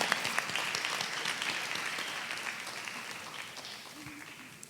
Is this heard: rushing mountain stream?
no